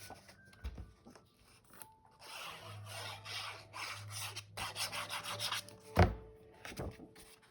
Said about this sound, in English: we're going to take this paper, and we're going to glue that to the base